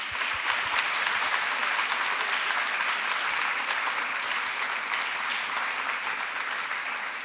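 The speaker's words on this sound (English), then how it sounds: "Let's start with a big round of applause for Ai Weiwei." A big round of applause for Ai Weiwei opening a live conversation event, loud, continuous clapping from a large audience that stays full and even throughout, with no one speaking.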